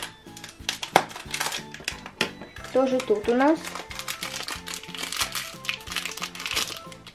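Crinkly plastic packet being handled and torn open, crackling up close while someone talks over soft background music.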